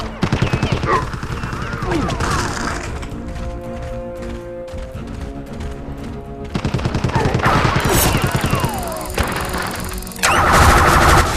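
Enemy gunfire in the video game Oddworld: Stranger's Wrath, loud rapid bursts of shots with crashes of breaking objects, nearly continuous and dense, mixed with game music and effects.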